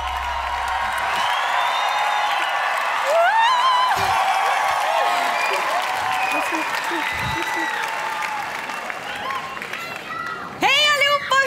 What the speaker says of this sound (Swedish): ge en stor applåd och kärlek till kvällens värdpar